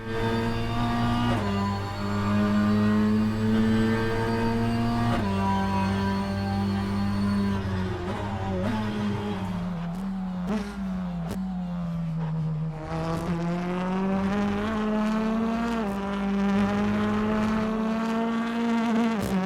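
A high-pitched, buzzing BTCC touring car engine drone in the racing game rFactor 2 holds steady throughout, its pitch rising and falling continuously as it accelerates and shifts gears.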